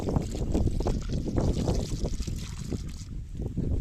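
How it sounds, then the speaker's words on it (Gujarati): Continuous rushing, gurgling irrigation water mixed with cow buttermilk and jaggery water flowing steadily through an open field channel in a chickpea field, loud and close, with wind buffeting the microphone. "આજે ચણામાં પિયત ચાલુ છે પાણી આપવાનું"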